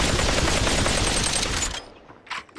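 Rapid automatic gunfire from a gun in the VR shooter Population One, a loud dense burst of shots lasting under two seconds, then a quieter clatter as it stops.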